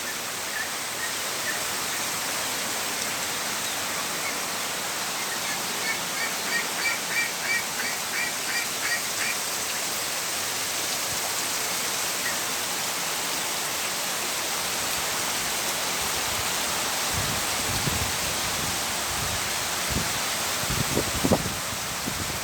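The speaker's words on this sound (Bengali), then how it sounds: "অনেক বৃষ্টি হচ্ছে" Heavy rain pours onto a rooftop where white ducks wander, a steady dense hiss throughout, with faint quacks surfacing briefly in the middle and a few louder knocks near the end; no talking.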